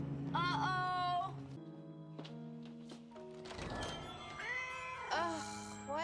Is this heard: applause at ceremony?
no